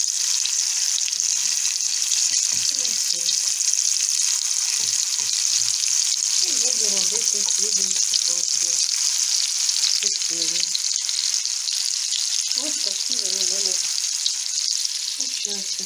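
Loud, steady sizzling of meatballs frying in a pan continues throughout, with faint voices murmuring now and then beneath the crackle.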